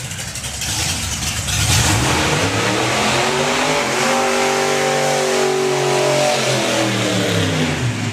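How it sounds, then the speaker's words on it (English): A supercharged 1930s Ford drag car does a burnout at a drag racing event, its engine roaring loud and close, rising and falling in pitch and continuous throughout. "Proper burnout, got a new set of boots on there."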